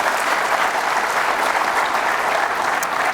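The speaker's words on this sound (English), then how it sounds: "Another huge round of applause for all former leaders who will be honored today here." A large audience applauds at an award ceremony in Ethiopia honoring former African kings and leaders, a dense, steady wash of clapping that fills the whole stretch at even loudness with no speech over it.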